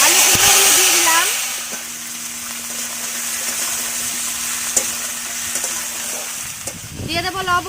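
Potatoes and pumpkin hit a pan of hot oil with bay leaves, setting off a loud burst of sizzling that settles into a steady crackling fry, with stirring and scraping and a short rise in activity at the end.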